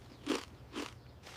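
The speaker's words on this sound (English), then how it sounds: "the crunch on these is honestly next level" Crunchy potato chips being bitten and chewed close up, two sharp crisp crunches about half a second apart and a fainter third, with no talk.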